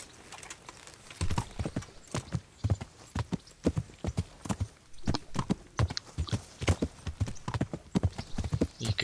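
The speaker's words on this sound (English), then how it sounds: "You can gallop with the horse" Horse hooves clip-clop in a quick, steady galloping rhythm, close and crisp, with no talking over them, in the video game Kingdom Come: Deliverance.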